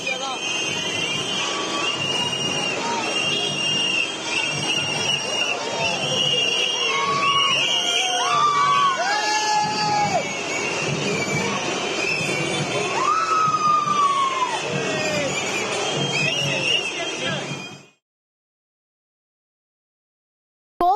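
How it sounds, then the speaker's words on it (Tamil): A large crowd of supporters in Coimbatore greets Vijay with loud, continuous cheering, shouting and whistling, with voices rising over a busy outdoor din before the sound cuts out. "எம்ஜிஆர் புகைப்படத்தை காட்டி தொண்டர்கள் உற்சாகமாக வரவேற்றனர்"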